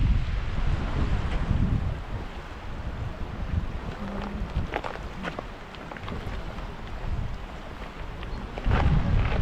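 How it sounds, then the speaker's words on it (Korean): Strong wind blowing across a lake, heavy buffeting gusts rumbling against the microphone with surging and easing bursts and faint water sounds beneath, loud and continuous. "지금 바람이 엄청 불고 있어서"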